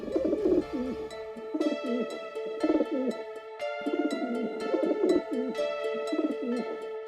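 Pigeons cooing in a loft kept by a city building, several birds giving repeated throaty, rolling coos in overlapping bursts, close and fairly loud with no talking.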